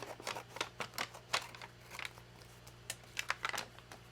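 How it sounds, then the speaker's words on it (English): A paper card being trimmed with scissors for a junk journal tuck card, a quiet, close series of irregular crisp snips and small paper rustles over a faint steady hum. "I'll have to, I think, trim down my card just a bit"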